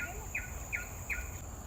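A single bird in a nature park repeats a short, sharp chirp three times at an even pace, moderately close over a steady insect drone and quiet outdoor background.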